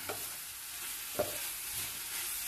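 Sautéed cassava sticks and vegetables stirred in a pan, a soft steady sizzle broken by two brief spoon scrapes, quiet and close.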